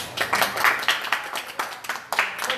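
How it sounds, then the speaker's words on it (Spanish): A small group claps in an uneven, scattered patter for a couple of seconds, close and moderately loud. "Aplausos para él, está presente."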